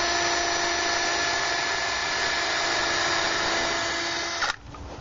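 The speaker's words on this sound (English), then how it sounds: "make a pilot hole so that it doesn't break the wood" A screw gun bores a pilot hole into wooden gate timber while a cable support kit is installed, giving a steady, loud, high-pitched whine close by that runs unbroken for several seconds before cutting off abruptly.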